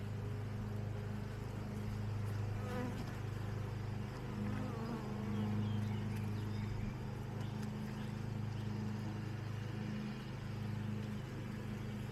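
A dense, steady buzz of many honey bees at an apiary hums continuously close by, a low drone with no talking; the bees are queenless colonies being prepared as splits.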